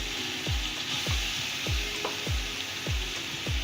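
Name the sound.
onion and garlic frying in pan as tomato paste is added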